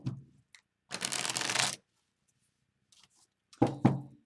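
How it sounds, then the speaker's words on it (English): Tarot cards being shuffled by hand, a crisp riffling burst lasting under a second, then a pause and two sharp taps as the deck is squared, close and clear with no talk. "One more shuffle"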